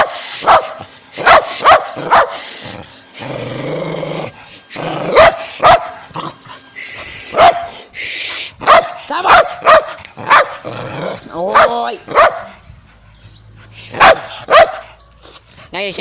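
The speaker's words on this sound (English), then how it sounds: "Can you not bark like that?" A dog barks loudly and repeatedly in close, sharp bursts scattered through the scene, with a few whimpers and yips between them, while a man calls out and talks over the commotion.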